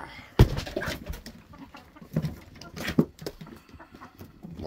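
Hens, including a silkie, cluck and chatter in a backyard run while being fed spaghetti, with a few sharp close clucks and scattered pecking over soft background activity.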